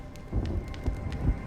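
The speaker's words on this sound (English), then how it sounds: "When will this rain ever stop?" Rain patters steadily in the video game Honkai: Star Rail, with low rumbles of thunder rolling through in soft repeated swells, fairly near and without any talk.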